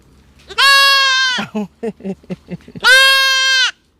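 Two long, loud goat bleats bracket a run of short, stuttering bleats from goats at evening feeding on a Thai goat farm, close by and with no talking.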